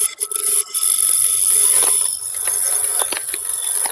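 A woodturning tool cuts wood spinning on a lathe while riding the bevel. It makes a close, steady scraping and rasping hiss with a high ringing tone, plus brief uneven catches and scuffs over a few seconds.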